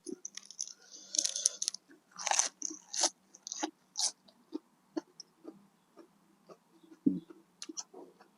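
Close-up crunching bites and chewing of blanched cockles with crisp vegetables, a loud crackly burst early, then steady rhythmic crunches at roughly half-second intervals, no talking.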